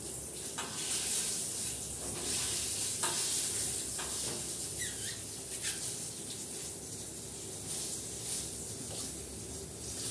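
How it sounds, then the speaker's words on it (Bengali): Pointed gourd fries in a wok, giving a soft, steady sizzle broken by a few quiet stirring scrapes, heard alone and fairly faint. "পটলটা ভাজছি ওই দিকে কড়াতে"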